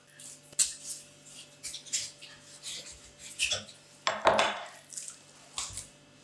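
A knife works through a salmon fillet in short, quiet scraping and slicing strokes with a few light clinks, close and unhurried, with no talk.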